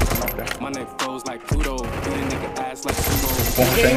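Rapid bursts of gunfire in the mobile game Free Fire, several sharp shots cracking over a busy, dense soundtrack with a faint voice in the background.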